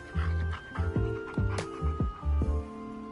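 A puppy in the video game Mato Anomalies lets out a string of short whimpers, yips and small barks in uneven bursts, close and fairly clear, with no talking.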